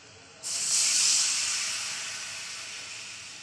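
Ginger-garlic paste hits a hot pan with a splash of water, bursting into a loud sudden hiss that peaks and then slowly fades as it keeps sizzling.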